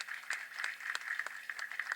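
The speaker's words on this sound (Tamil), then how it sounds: "நம்ம அவருக்கு ஒரு கைத்தட்டல் கொடுக்கணும்" Audience applause at a Tamil film's audio launch event, a soft, steady patter of many hands clapping at a distance, faint and without voices.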